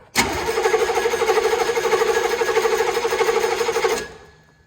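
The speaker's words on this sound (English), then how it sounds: "So I'm gonna crank this over a little bit, and it should fill that cup up pretty quick once it primes out." An M998 Humvee engine cranking over with the starter to prime its fuel pump, a loud steady rhythmic churning that runs for about four seconds without catching, then cuts off abruptly.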